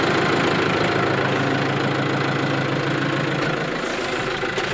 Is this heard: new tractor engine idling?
yes